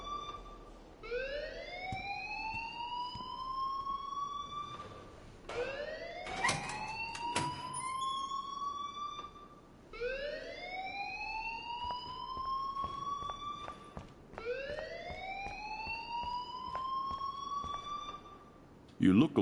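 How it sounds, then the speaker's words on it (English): An alarm in the video game Life is Strange wails in repeated rising siren sweeps, loud and steady, cycling about every four to five seconds with scattered clattering underneath. "please turn off that alarm since that's your job"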